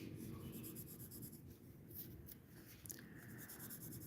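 A pen or pencil moves across paper in quick strokes during a drawing session, a soft continuous scratching and rubbing, faint and close, with no voice.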